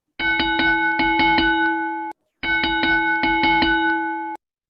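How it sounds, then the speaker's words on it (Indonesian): A bright electronic chime rings twice, each a short run of ringing tones that sustains and then cuts off, with a brief pause between. "Nah, bunyi lonceng ada banyak, tapi ini ada contohnya."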